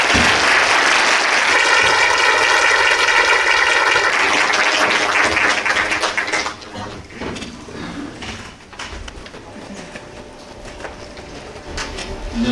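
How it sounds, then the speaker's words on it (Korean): A lecture-hall audience at a university-hosted political debate gives loud, sustained applause as the former party leader is welcomed, dense clapping for about six seconds before tapering into quieter scattered claps and room noise. "큰 박수로 맞이해 주시기 바랍니다"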